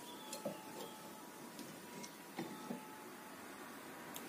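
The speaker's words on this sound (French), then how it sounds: "Je vais le placer dans mon étau que je vais serrer." A bench vise is tightened on sheet metal in a workshop, heard as faint, sparse clicks and ticks of the turning screw over a quiet background.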